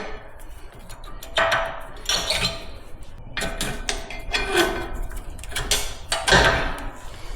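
Rear brake pads are worked out of the caliper on a BMW M550 (G30), giving a series of close metallic clunks, scrapes and knocks at irregular intervals, with no talking.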